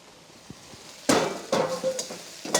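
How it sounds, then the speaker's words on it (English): A metal spatula scrapes fried beef across a hot oiled pan, several sharp scraping strokes in quick succession after a couple of light taps, close and clear with faint sizzling underneath. "I'm going to give it a final really good scrape, and then just drain off any excess oil that I might have"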